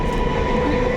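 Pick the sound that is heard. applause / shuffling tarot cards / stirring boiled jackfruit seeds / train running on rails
train running on rails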